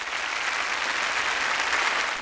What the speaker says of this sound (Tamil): ஒரு நல்ல கைத்தட்டலோட அவங்களை வரவேற்கலாம்